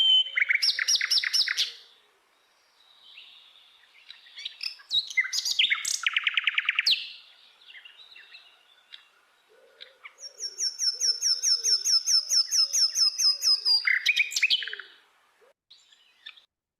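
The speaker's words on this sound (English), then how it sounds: "So this is the nightingale, the same nightingale that we have in Respighi, that same bird" A nightingale sings in a clean, close recording, delivering loud rapid trills, buzzy repeated notes and a long sustained rattling phrase separated by brief pauses, with no voices.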